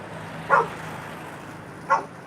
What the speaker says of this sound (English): what are you barking at me for?